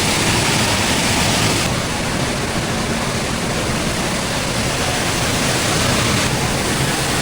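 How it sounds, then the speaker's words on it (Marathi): Waterfall at Bhandardara, Maharashtra during the monsoon, a steady, loud, broadband roar of rushing water that stays constant throughout with no voices. "हा एक वॉटरफॉल आहे"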